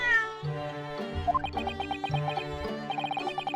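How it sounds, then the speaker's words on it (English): A cat in The Great Ace Attorney video game gives a drawn-out meow against the game's music, which has plucked, repeated notes, all clear and fairly loud. "Oh, there's a cat."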